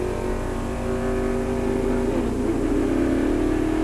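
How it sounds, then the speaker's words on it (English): A NASCAR stock car accelerating out of the pits at the 1992 GM Goodwrench 500, a loud sustained engine drone that rises steadily in pitch as it gathers speed. "Davey accelerating out of the pits"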